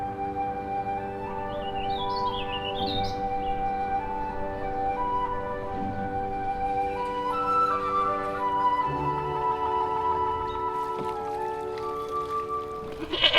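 Goats clearing invasive plants on islands in Gallup Park bleat repeatedly over several seconds, several wavering calls at close to middle distance over steady outdoor background, with faint bird chirps.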